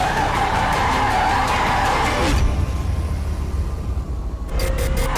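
A hypercar in drift mode slides with loud, sustained tire squeal and engine roar for a couple of seconds, then the skid cuts off, leaving a low rumble before a short burst of noise returns.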